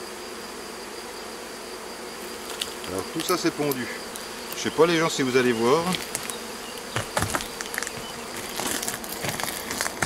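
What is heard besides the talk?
honeybees buzzing in a hornet nest box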